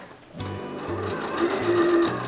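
A sewing machine stitching long gathering stitches at a half-inch seam allowance in fabric, starting abruptly and running in short bursts of close, steady mechanical whirring with a rising motor tone.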